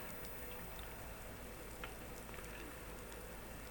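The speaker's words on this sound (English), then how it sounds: "And tonight it's raining." Rain falls steadily at night at the Estoril circuit near Lisbon, Portugal, a dense, even hiss of drops with occasional sharper patters, continuous and without voices.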